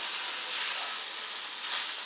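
Shrimp fried rice sizzling in a hot pan, a steady, dense hiss of frying that stays even and close throughout, with no talking.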